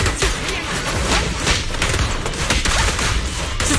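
Gunfire in the action game Zenless Zone Zero, a dense, continuous barrage of rapid shots and impacts, loud and close with no pause for the full stretch.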